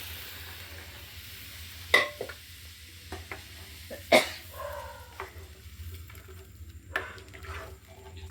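Boiled chickpeas go into a pan and are stirred, giving scattered scrapes and a few sharper knocks over a quiet, faintly sizzling background.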